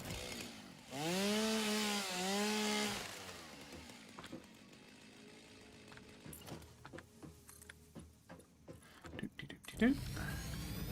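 A chainsaw in the factory-building video game Satisfactory revs with a rising and falling whine, followed by scattered cutting clatter and crackles as it works. Someone talks over much of it.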